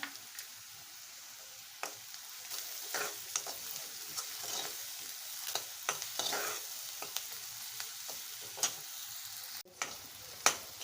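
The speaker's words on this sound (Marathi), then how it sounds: "हा कांदा आहे ना आता भाजत आला आहे" Onion frying in a pan: a soft, steady sizzle with scattered clicks and scrapes of stirring, one sharp knock near the end, quiet and close, with no voices.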